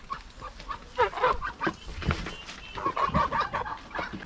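Geese on a Moravian farm honk in a lively, overlapping chorus at close range, with short repeated calls and cackles and no talking.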